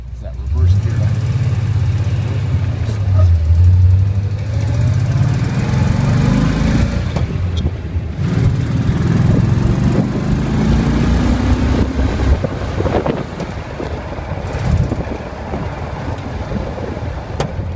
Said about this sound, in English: what's impressive about this Jeep is it fires up quicker than my newer fuel injection